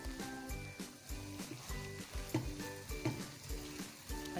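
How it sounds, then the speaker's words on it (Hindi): Half a kilo of beef keema sizzles and crackles steadily in a pan for keema biryani, with rhythmic bursts where the mince is stirred and pressed, and no one talking. "और अब इसके अंदर हम ऐड कर देंगे कीमा। हाफ़ केजी हमने यहाँ बीफ का कीमा लिया है।"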